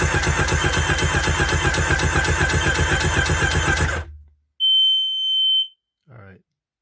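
A Seadoo 951 DI engine cranks steadily and loudly for about four seconds during a fuel pressure test, then stops, leaving a brief high electronic beep and a short voice.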